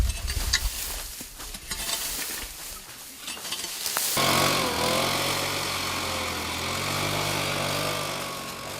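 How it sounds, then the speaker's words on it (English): A motorized leaf blower clears dry leaves, cut grass and twigs from a forest fire line. Rustling and clattering come first, then a loud, steady engine roar with a whining tone that holds to the end. "Blower blows away all the cut grass, dry leaves and twigs, thus clearing the guideline."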